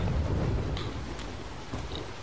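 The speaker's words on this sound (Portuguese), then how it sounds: "Tá trovejando e tudo, né?" Thunder rumbling over steady rain in a stormy scene from The Walking Dead video game, a dense low roar of downpour with faint distant rolls of thunder throughout.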